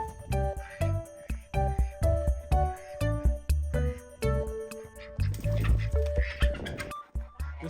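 Ducks on a small farm in snow quack in a loud, close, rapid string of calls, followed by splashing and rustling before a final quack.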